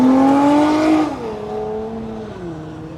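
A car accelerates away at a Power Tour car event, its loud engine note dropping in pitch and fading as it pulls into the distance, with no talking.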